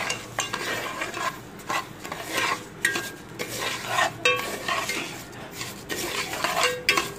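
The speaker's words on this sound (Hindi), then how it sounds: "अब हम इसमें 1 पाव चीनी शामिल कर देंगे और इसको हिलाते रहेंगे" A spoon scraping and clinking in a metal pot as sugar is stirred into roasted vermicelli with cardamom over low heat, repeated close stirring strokes with a faint sizzle, no talking.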